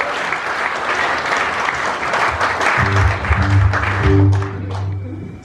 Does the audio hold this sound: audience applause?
yes